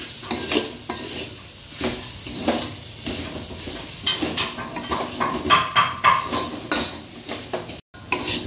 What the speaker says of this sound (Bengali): চিকেন দিয়ে এটাকে আবার একটু ভেজে ভেজে নিবে।